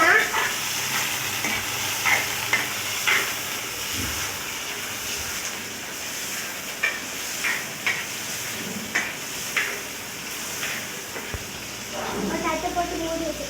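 Chopped bottle gourd and salt sizzle in a pan while a spatula stirs, giving a soft frying hiss punctuated by regular scraping knocks against the metal.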